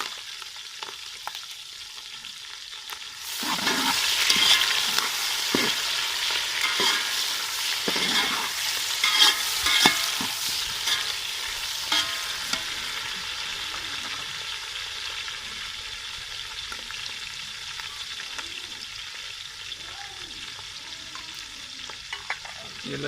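Tomato, ginger, green chili and garlic frying in a pan for masoor pulao: a sudden loud sizzle as they go in, then steady frying with stirring scrapes that settles to a quieter hiss.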